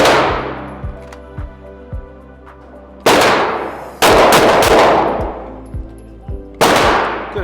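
Gunshots during a limited-ammo training drill, loud sharp reports with trailing echoes, several fired in quick succession with pauses between groups, plus fainter distant shots in the gaps.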